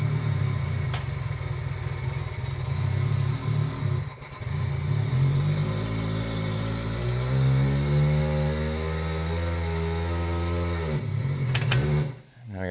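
Jeep Grand Cherokee WJ being driven forward, with a steady engine hum that dips, then rises in pitch as it pulls ahead, before quieting near the end, with no talking.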